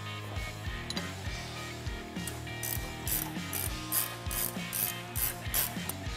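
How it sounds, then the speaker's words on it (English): Ratchet fitted with a 27 mm socket loosening an axle nut on a Polaris Ranger XP1000 UTV, rapid rhythmic clicking in repeated strokes, close and clear, with no talking. "get a 27 millimeter socket and remove our axle nut"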